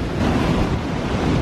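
Sea waves wash in and fall away around a tripod standing on the shore, a steady close broadband rush of surf with wind buffeting the microphone throughout.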